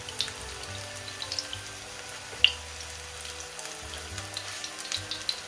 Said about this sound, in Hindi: ऑयल भी हमारा गरम हो चुका है। अब हम कबाब को इसमें डाल देंगे।